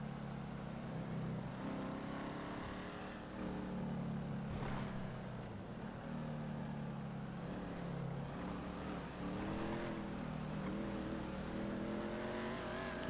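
A truck engine roars loud and steady in an off-road driving video game, droning with rising and falling revs throughout.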